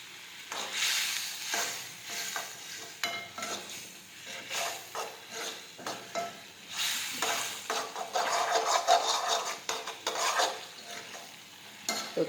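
Sev being stirred into an onion curry in a pan: repeated scraping strokes and soft clatter over a gentle sizzle, fairly close and uneven in rhythm, with no voices.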